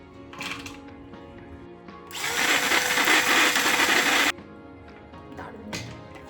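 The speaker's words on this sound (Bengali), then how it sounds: "আগারোর এই চপারটা এতটা ভালো কাজ করে, এতটা সুন্দর চপ হয়ে যায়। তো এই নাটসগুলোকে এখন এটার মধ্যে চপ করে নেব।" An Agaro electric chopper whirs loudly for about two seconds as it chops nuts, a steady high-pitched motor grind that starts abruptly and cuts off cleanly, with quieter handling clatter before and after.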